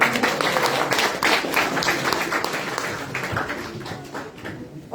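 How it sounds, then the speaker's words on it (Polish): Audience at a gallery art opening applauding steadily and fairly close, dense clapping filling the whole stretch and thinning slightly toward the end, with no talk over it. "brawa dla dziewczyn."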